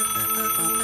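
A telephone rings in a 3D animated comedy cartoon, a short bright electronic trill sounding steadily for under a second with no voices.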